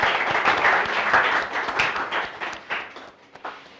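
Applause and clapping from a classroom group right after a student group's presentation ends, a dense burst of many hands that gradually thins and fades over a few seconds.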